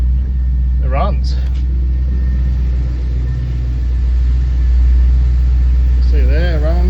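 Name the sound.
Holden Commodore barn find car engine running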